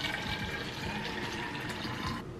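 Water running and splashing steadily as a reusable water bottle is refilled, a continuous close liquid rush with small gurgling fluctuations throughout.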